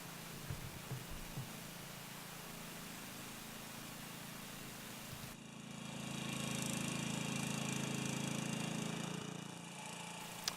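A Bolens 1050 garden tractor with tire chains drives across a snowy lawn pulling a wood trailer, a quiet, steady engine drone with clinking that grows louder and fuller partway through, and no voices.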